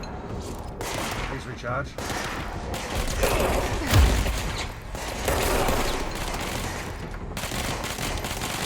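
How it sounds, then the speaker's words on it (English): Gunfire from enemy soldiers in the video game Control rattles in repeated bursts, dense overlapping shots with a heavy thump near the middle, while a game voice speaks briefly over the barrage. "That's a lot of men with guns."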